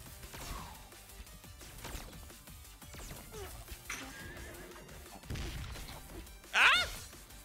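A horse whinnies in the video game Knight Squad 2, a short, loud, bright neigh near the end, preceded by scattered game clatter and thuds.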